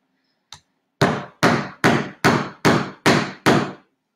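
A hammer drives nails in a DIY project: one light tap, then seven loud, evenly spaced strikes close by, with no talk over them.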